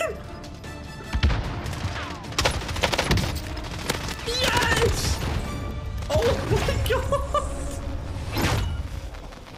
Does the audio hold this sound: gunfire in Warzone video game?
yes